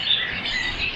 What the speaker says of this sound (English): And a view of the park. With lots of birdsong.